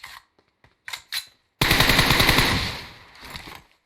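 An M4 rifle in an online battle royale shooter fires a couple of short single shots, then a sustained loud automatic burst lasting about two seconds, close and dominant with no talking.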